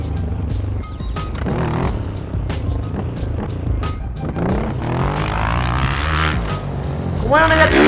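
A motorcycle engine in a stunt video game revs and drones continuously, pitch climbing with throttle and surging near the end, while someone talks over it.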